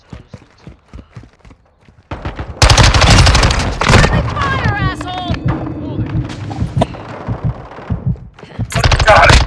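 Call of Duty Modern Warfare multiplayer gunfire: after a quieter opening, loud rapid automatic bursts erupt and keep rattling densely to the end, layered with game effects and brief voice chatter.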